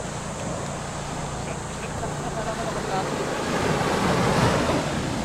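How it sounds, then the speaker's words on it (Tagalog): Ocean waves rolling and breaking on the shore at Capones Island, a steady broadband wash with wind buffeting the microphone and surf swelling louder toward the end. "Lakas ng alon."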